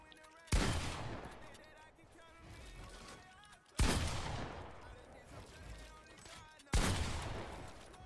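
Gunshots in Fortnite Battle Royale on a piece control practice map: three single loud sharp blasts spaced a few seconds apart, each with a decaying tail, over a faint background.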